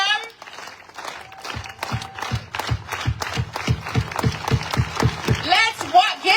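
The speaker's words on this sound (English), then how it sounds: "let's do the labor clap" A protest crowd at an International Women's Day rally in Palm Springs performs the labor clap, single claps starting slowly and then speeding up into a rapid burst, with cheers and voices around them.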